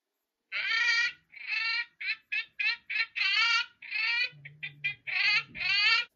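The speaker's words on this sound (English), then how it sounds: "A chicken goes." A chicken gives a run of loud, close clucks and squawks, about a dozen short bursts in an uneven rhythm with brief gaps, with no one talking.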